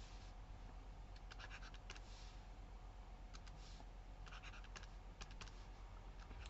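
Quick scratchy strokes of a pen writing by hand on paper, close and quiet, coming in short bursts with pauses over a steady low background hiss.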